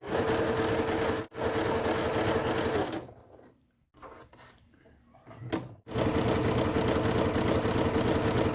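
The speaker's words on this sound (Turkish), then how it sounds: "Şu kısım ve üst kısım hariç her yere overlock dikişi gibi dikiş yapacağız." Sewing machine running an overlock-style zigzag stitch along a chair cushion cover, loud rapid mechanical whirring in long bursts, with a brief pause and quieter handling sounds midway before stitching resumes.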